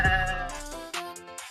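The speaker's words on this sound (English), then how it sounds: "Bah, brilliant! It's a sheep!" A fluffy white sheep bleats in a long, wavering, nasal cry, then a second shorter bleat follows, close and clear against a quiet background.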